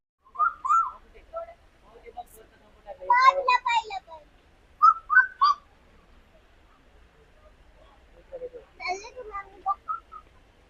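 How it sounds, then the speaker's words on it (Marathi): Scattered bird calls and chirps from pelicans and other birds at Mumbai's Byculla zoo come in short bursts, separated by quiet gaps, with a few whistle-like notes. "तिथे वेगवेगळ्या प्रकारचे पान पक्षी आहेत"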